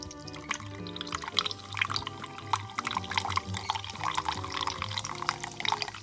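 Water poured into a gluten-free sourdough starter of rice flour: a thin trickling stream splashing and dripping into the jar, steady for several seconds over faint background tones, with no speech.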